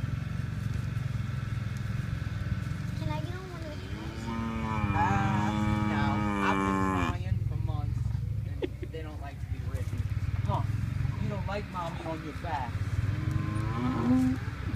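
Cows on a farm let out a long, drawn-out moo and then shorter lowing calls, fairly close, over a steady low rumble of engine-like background noise.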